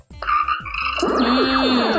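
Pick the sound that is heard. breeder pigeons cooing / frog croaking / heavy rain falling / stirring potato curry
frog croaking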